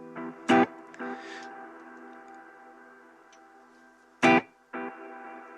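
Short, sharp guitar stabs through a BOSS GT-1000 Core effects unit ring out, each followed by a fading echo repeat, with quiet sustained tone between two pairs of hits.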